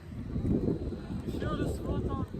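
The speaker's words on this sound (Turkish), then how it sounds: "çok rüzgar var" Strong wind at the Uludağ ski area in Bursa buffets the microphone with a continuous low roar, and faint higher tones flicker through it.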